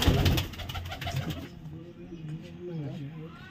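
Pigeons kept by fanciers coo softly in low, rolling phrases after a brief burst of louder noise at the start.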